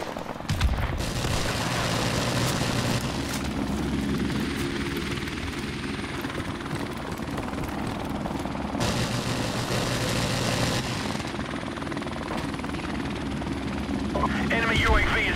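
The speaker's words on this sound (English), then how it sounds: "Helicopter inbound." Military helicopter in the Call of Duty Modern Warfare Remastered multiplayer game, a steady loud rotor and engine drone running throughout amid bursts of gunfire and game voice announcements.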